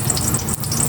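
Garlic sautéing in hot oil for a pork sinigang, giving a steady, close, crackling sizzle that holds without a break.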